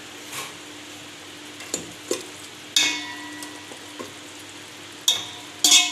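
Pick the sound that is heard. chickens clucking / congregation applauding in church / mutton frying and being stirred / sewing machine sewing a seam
mutton frying and being stirred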